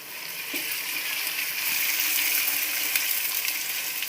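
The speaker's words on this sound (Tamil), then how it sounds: "பெரிய வெங்காயம் ஒரு கால் கிலோ கட் பண்ணி வச்சுருக்கேன் அதையும் போட்டு வதக்கிடலாம்" A quarter kilo of chopped onions is sautéed in a pan for mutton biryani, making a loud, continuous, close hiss of frying with faint stirring, no talking.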